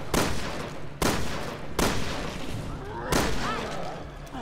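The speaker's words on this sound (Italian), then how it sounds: "sta pistola mi piace, eh. Spara dei bei colpozzi cattivi." Armor-piercing pistol gunfire in the video game Resident Evil Revelations 2, set in a sewer. Four loud, sharp shots ring out at a slow, uneven pace, and each one leaves a booming echo that fades behind it.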